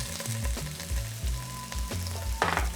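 Onions sauteing with tomato paste in a pan sizzle loudly up close, with repeated stirring scrapes that come in an uneven rhythm and no voices.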